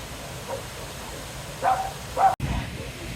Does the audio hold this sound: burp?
no